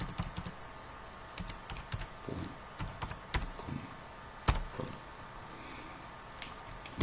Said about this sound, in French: on va écrire WeTransfer